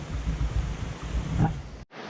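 Broadband rushing water from the biggest stream crossing yet on the Seneca Creek Trail, steady and close under faint wind, cutting off abruptly near the end.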